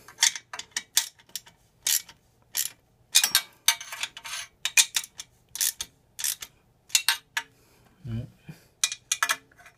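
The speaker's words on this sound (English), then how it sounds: "Now I'm holding my hand a little bit further away from the head of the wrench, so I get a little bit more torque." A ratcheting wrench clicks in short repeated bursts while tightening an Akrapovic titanium exhaust bolt on a Yamaha XSR900, close and sharp, with brief pauses between strokes and one low thud.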